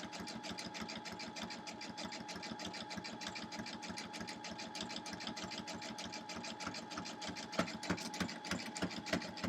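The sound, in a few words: sewing machine stitching quilt block appliqué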